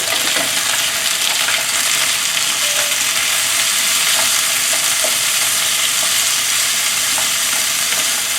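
Ginger and garlic stir-fry in a hot pan for a Chinese stir fry, giving a loud, unbroken sizzle with faint tossing and stirring clinks, close up and without talking.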